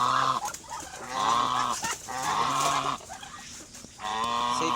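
Ducks and geese for sale honk and squawk nearby in repeated loud calls, overlapping in a busy cluster with brief pauses between bursts, with no talking.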